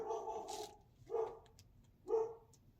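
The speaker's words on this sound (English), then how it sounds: "You may hear a dog barking." A neighbour's dog barks three times somewhere in a house, faint and distant, with roughly a second between each bark and no talk over it.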